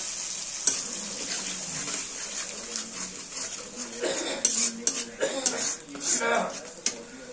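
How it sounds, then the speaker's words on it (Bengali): Turmeric and chilli powder masala stirred in a hot pan over burnt tempering, a soft sizzle that grows louder with bursts of spatula scraping and clinks against the pan, while a voice talks over it. "আমরা এখানে মশলাটা দিয়ে ভালো করে নাড়িয়ে নেব"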